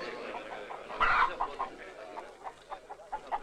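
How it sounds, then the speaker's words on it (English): Hens cluck in an outdoor Western film scene, a near burst of squawking followed by scattered short clucks, with speech alongside. "They are chickens, amigos. Chickens! Hens! Producers of eggs!"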